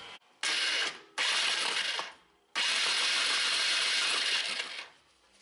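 Gentle pulls on the recoil starter of a Magnum engine: three rasping, ratcheting pull strokes, two short ones and then a longer drawn-out one, each separated by a brief pause, close and clear with no talk.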